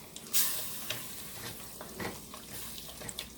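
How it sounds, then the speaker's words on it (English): Leftover gravy being stirred into turkey pot pie filling, a close, wet scraping and slopping in a pot with soft spoon clinks and a sharper knock near the start, no voices. "So we're going to stir that so it comes together."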